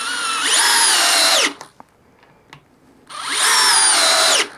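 A Milwaukee multi-chuck brushless drill driver spinning in drill mode at speed 2 with no load, a loud whine that ramps up and stops, then after a short quiet gap revs up again.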